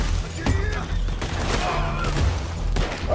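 A Krampus shotgun firing incendiary rounds in a video game, with rapid heavy blasts and crackling bursts layered over a continuous loud rumble of gunfire.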